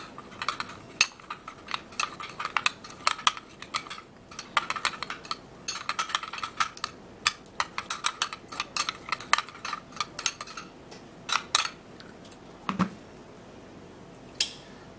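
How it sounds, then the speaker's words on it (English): A thick coconut and Vaseline mixture being stirred and mashed in a small bowl, giving a busy run of sticky clicks, squishes and utensil taps, close and fairly loud, with no talking. "You'll have to take a little time to mix this and mix it really well."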